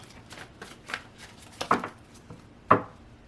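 Tarot cards are shuffled in quick riffling bursts, ending with a couple of sharper snaps as the deck is squared, close and fairly quiet.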